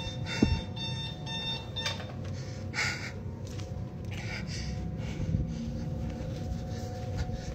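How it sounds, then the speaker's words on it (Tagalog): An alarm goes off indoors in a house in Japan, a steady electronic tone sounding faintly under room noise, with a few breaths and small clicks nearby. "now the alarm's going off."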